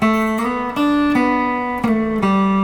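Plucked electric guitar notes on the second string ring out with quick ghost slides between them, clear and close, one after another, from a guitar solo.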